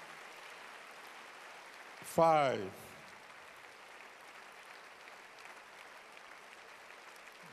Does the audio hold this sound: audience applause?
yes